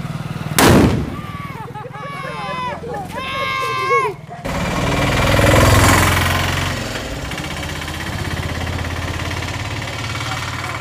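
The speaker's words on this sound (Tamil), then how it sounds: "நல்லா வெடியுது." Diwali firecrackers go off outdoors: a sharp, loud bang, then a stretch of whistling and warbling rocket-like tones, followed by sustained noisy crackling and rumbling. Voices can be heard in the background.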